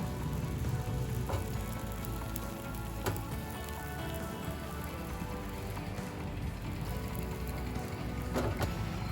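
A ladle of batter for kheer patishapta sizzles in a hot pan, a continuous crackling fry with scattered small pops and a few sharper clicks, close and steady throughout, with no voices.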